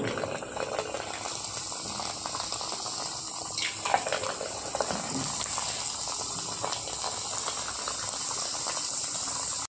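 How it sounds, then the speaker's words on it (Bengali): Rolled papri dough for papri chaat bubbles in hot oil over a low to medium flame, a steady soft fizzing and crackling that runs evenly throughout with no voices. "এবার এক এক করে ছেড়ে দেবো।"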